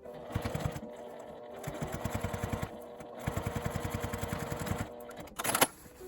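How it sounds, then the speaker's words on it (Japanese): A sewing machine edge-stitching the folded-in turning opening of a small zippered box pouch closed, running in quick rhythmic bursts of stitches separated by brief pauses, close and alone. "返し口を内側に折り込んで端ミシンで縫い閉じます。"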